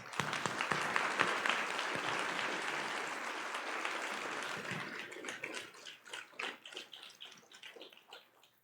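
An audience applauds at the close of a keynote discussion, dense and sustained clapping from many hands that thins into scattered, separate claps before fading out.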